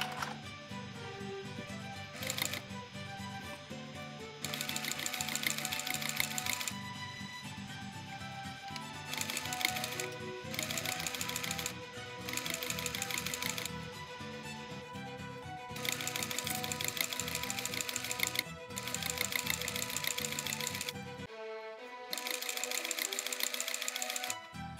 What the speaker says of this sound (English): Start sew a little above the beginning,